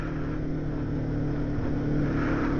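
Wind roars against a rider on a motorcycle with the visor open, a steady, loud buffeting rush with low engine drone underneath and no speech.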